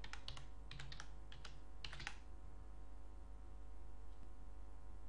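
Keys on a computer keyboard are tapped in quick bursts while cheat codes for a GTA game are entered, then the typing stops and a steady background hum continues alone.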